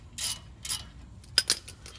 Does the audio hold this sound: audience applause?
no